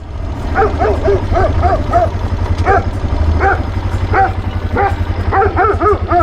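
Dogs bark in quick irregular bursts, several short yaps close by, over a steady low hum.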